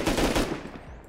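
A short burst of rapid gunfire in the survival game Rust, several quick shots blending into one another and then fading away.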